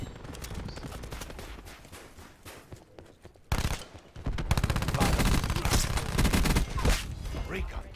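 Rapid automatic fire from the Switchblade X9 SMG in Black Ops 4 rattles in loud, dense bursts, with a brief lull before heavier sustained firing resumes, over game ambience and footsteps.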